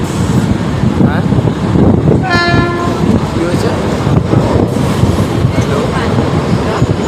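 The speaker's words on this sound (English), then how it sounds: "We are departing Mumbai Central Churchgate local." A Mumbai local train on the Western Railway pulls out of Mumbai Central, its horn sounding a clear tonal blast over steady rumbling wheels and carriage noise throughout.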